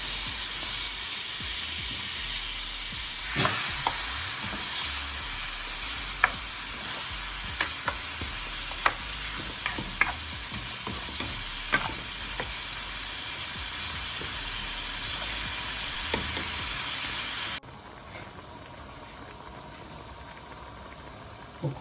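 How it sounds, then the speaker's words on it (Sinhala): A spicy Sri Lankan village-style tilapia fish curry is stirred in a hot pan, with a loud steady sizzle and hiss and irregular sharp scrapes and clinks of the spoon. Near the end the sizzle suddenly drops to a quiet hush. "හොඳට කලවම් කරන්න."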